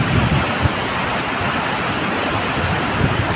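Water pours down a river waterfall in hilly country, a loud, steady broadband roar that fills the whole clip without a break, close by, with no voices over it.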